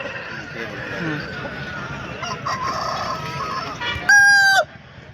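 Voices talk over a noisy hen market background, then a rooster crows loudly once nearby, a short strained call ending the clip.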